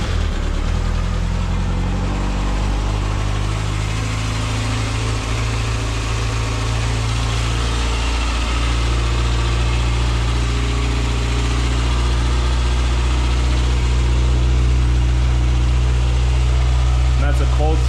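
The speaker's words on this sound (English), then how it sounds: "So here's the stock sound." A stock-exhaust Kawasaki ZX6R KRT Edition idles from a cold start, a steady low rumble that runs on evenly and close by throughout, with no one talking over it.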